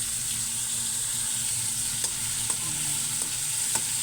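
Small dried anchovies (dilis) sizzle loudly and steadily while being sautéed in a pan, with an intense close hiss and occasional soft taps of a stirring utensil.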